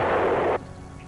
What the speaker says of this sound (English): The biggest American artillery pieces, the 175mm howitzers, could destroy a target at a range of 20 miles.